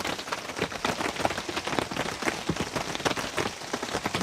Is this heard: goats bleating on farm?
no